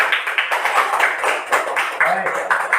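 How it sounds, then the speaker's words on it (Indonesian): Classroom clapping from fourth-grade pupils for a student group after its presentation, a dense patter of many small hands with voices mixed in throughout, fairly loud and close. "beri tepuk tangan kepada kelompok 1"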